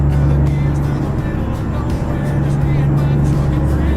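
A new truck in American Truck Simulator runs with a loud, steady engine drone, a deep rumbling hum that stays constant and close throughout.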